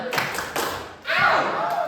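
A group of teachers at a training session performs a 'tepuk salut' clap routine, a few sharp rhythmic clap bursts in a patterned sequence, with voices chanting along between the claps.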